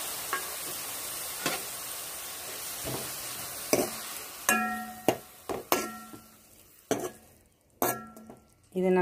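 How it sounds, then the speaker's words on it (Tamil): Bitter gourd simmering and sizzling in a pan as tamarind water is poured in, with clinks and scrapes of a utensil against the pot at irregular moments and soft bubbling underneath. "பாகற்காயில் ஊற்றி வேக விட்டுருலாம்."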